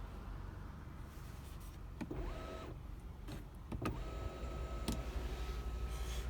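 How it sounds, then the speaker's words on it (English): The electric panoramic roof of a 2021 SEAT Ateca 1.5 TSI FR Sport DSG whirs as its motor runs in two stretches, a thin steady whine with clicks at start and stop, heard from inside the cabin over faint background hum. "So the pan roof is controlled from here."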